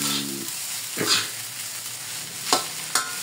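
Fried rice sizzles in a hot wok while a utensil stirs and scrapes it, with several sharp clanks against the pan spaced irregularly.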